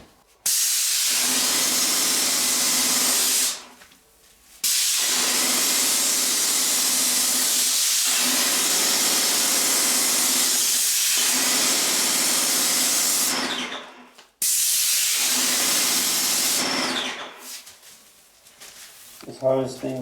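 A WAGNER Control Pro 250M paint sprayer applying white paint indoors, a loud continuous hiss running in long stretches broken by brief pauses, close up, with a voice speaking briefly near the end.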